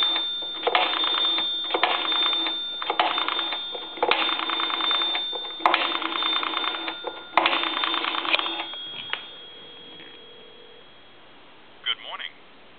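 A payphone handset rings the far end after a time-and-temperature number is dialed on an A&E three-slot payphone, repeating ring bursts in a steady cadence, ending with a couple of faint clicks.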